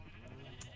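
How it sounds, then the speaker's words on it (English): A sheep in Minecraft gives a short, faint bleat with a quiet wavering tone, heard alone in under a second. "Well, here's some sheep."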